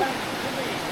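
Salad Dai waterfall in Nakhon Nayok, a steady close rush of falling water with voices speaking faintly underneath.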